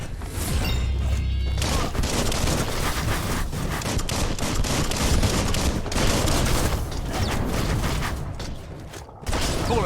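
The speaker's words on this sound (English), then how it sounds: "Bullets everywhere." Gunfire in the action game Biomutant: loud, rapid bursts of shots and crashing impacts packed densely together and carrying on without a break, close and intense.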